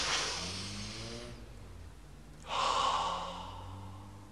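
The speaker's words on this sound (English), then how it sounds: "sit down, and breathe deeply for a minute or two." Two slow, deep breaths drawn in close to the microphone, each a long airy inhale with a soft, breathy rush and nasal texture, separated by a brief pause in a quiet room.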